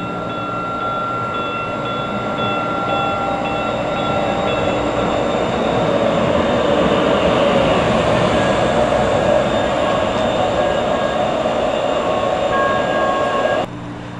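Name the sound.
riding inside a night train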